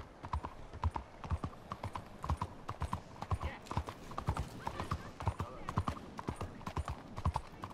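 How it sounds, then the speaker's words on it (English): Horse hooves gallop across stone in Red Dead Redemption 2, a steady run of sharp, close clip-clop beats with a brief whinny, while a person talks over the hoofbeats. "I love the sound of the horse galloping on this stone"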